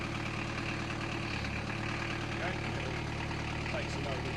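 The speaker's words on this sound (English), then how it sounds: "that is just how the engine is. There's nothing wrong with it. It's just incredibly noisy." A 1989 Citroen BX 19 diesel idling, a constant clattery low engine drone with no change in pitch, moderately close with no speech over it.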